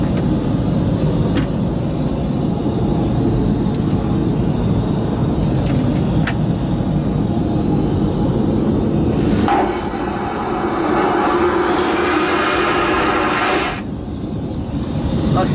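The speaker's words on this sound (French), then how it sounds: "pour vous rappeler la puissance d'un chiotte d'avion" An airplane toilet flushes with a roaring suction, preceded by loud cabin rumble and clicks; the violent whoosh lasts about four seconds and cuts off abruptly, leaving the engine drone.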